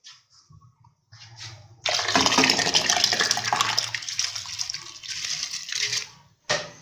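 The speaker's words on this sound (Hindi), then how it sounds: "पानी बॉयल है तो इसमें हम ऐड कर देंगे हमारे चावल।" Rice is added to a pot of boiling water, producing a loud rushing, splashing pour for several seconds that then eases into quieter bubbling, followed by a final brief splash.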